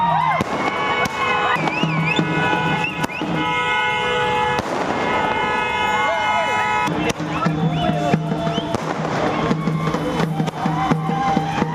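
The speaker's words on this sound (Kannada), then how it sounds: "ಪಟಾಕಿ ಹೊಡೆದು ಸಂಭ್ರಮಿಸಿದ್ದು" Firecrackers burst in dense, continuous crackling during a street celebration in Chitradurga after India's T20 World Cup 2024 win, loud and close throughout, with crowd voices and horns mixed beneath the steady popping.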